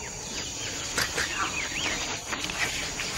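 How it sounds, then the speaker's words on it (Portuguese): Hoatzins call from riverside forest along the Orinoco: a few hoarse, wheezy, fowl-like calls rise faintly out of a dense, hissing background of wildlife and ambient noise. "Estes hoatzins são aves muito raras."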